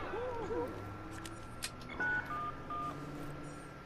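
Telephone keypad tones dial an emergency call in the Watch Dogs video game, a short run of clear beeps after some background game noise, no speech.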